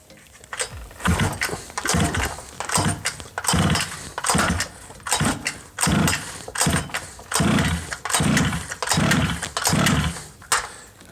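A Rovan Baja 5B 29cc gas RC buggy engine is started, giving a string of about a dozen rhythmic, fairly loud bursts of sputtering engine noise close by.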